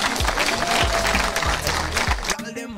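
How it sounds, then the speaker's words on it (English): Crowd at a political gathering with a politician clapping and cheering in a brief burst while amplified speech and music carry through it. "I don't think he deserves that hand clap"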